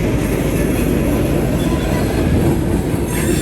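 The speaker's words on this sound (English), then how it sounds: "This train will go maybe a mile at the most and then reverse." Norfolk Southern freight train running along a street on a spur line, a steady loud rumble of rolling wagons and wheels close by, with no voices.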